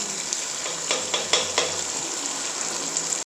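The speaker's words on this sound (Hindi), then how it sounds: "अब 2 से 4 मिनट के लिए इसको हल्की आंच पे पकाएंगे" Chicken curry gravy with cream simmers on low heat in a handi, giving a steady soft sizzle with a few light stirring scrapes, close and quiet, with no talking.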